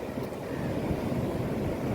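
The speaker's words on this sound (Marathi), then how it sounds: "भरती लागलेली आहे पाण्याचा लोड वाढला आहे बघा खूप" Steady rushing surf of sea waves at rising tide on a beach at Vetye, a continuous broad roar with wind buffeting the microphone, fairly loud and close throughout.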